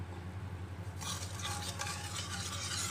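Sugar and vinegar are stirred together in a bowl for Filipino achara, a soft, steady swishing and scraping that starts after a quiet second and continues close up, with a low hum underneath and no talking.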